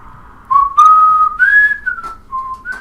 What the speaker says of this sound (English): You suck at whistling.